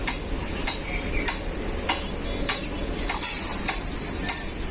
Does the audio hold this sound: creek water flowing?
no